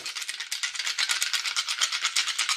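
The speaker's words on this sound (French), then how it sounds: "Donc, on va lancer les dés." A close, continuous clattering rattle of ten dice being shaken and rolled, small hard objects tumbling and knocking together, with no voices.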